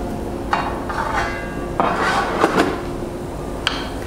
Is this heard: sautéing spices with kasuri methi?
yes